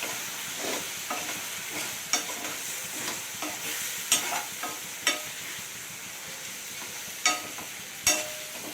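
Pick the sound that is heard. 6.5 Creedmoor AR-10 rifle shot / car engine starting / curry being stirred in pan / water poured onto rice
curry being stirred in pan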